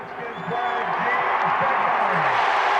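A huge stadium crowd at Super Bowl XVII, Redskins versus Dolphins, swells from a murmur into sustained roaring cheers, with a commentator talking over it.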